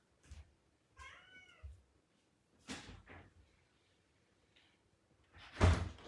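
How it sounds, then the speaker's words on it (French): A house cat named Mia meows indoors to be let outside: a few short, clear meows spaced apart, ending with a louder knock or bang like a door. "On entend Mia qui fait miaou."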